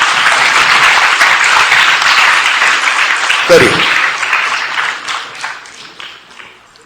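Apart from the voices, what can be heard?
audience applause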